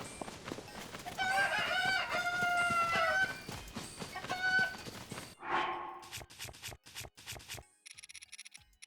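Cucco chickens in Zelda: Tears of the Kingdom cluck and crow loudly over game music, a run of squawking calls giving way to short chiming blips and ringing tones at the end.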